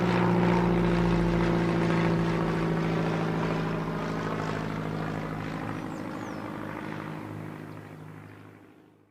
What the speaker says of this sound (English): He gets on the plane and takes off.